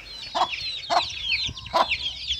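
Free-range hens cluck in a backyard flock, with three short clucks at regular intervals over a layer of higher chirping bird calls, close and clear.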